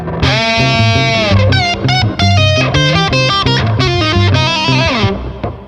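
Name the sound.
electric guitar with distortion effect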